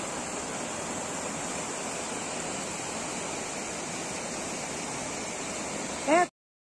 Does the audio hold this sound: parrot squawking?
no